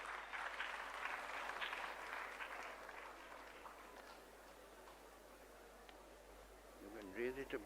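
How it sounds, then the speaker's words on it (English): Faint applause from a summit audience in an auditorium fades away over several seconds, followed by quiet and a brief murmur of voices near the end. "Please welcome him with a round of applause."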